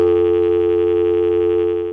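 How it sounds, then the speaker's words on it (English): Dial tone from a 1976 step-by-step telephone exchange in Manassas, a steady, loud, buzzy hum that holds unchanged throughout and tails off slightly at the end. "While we're letting this Manassas dial tone time out"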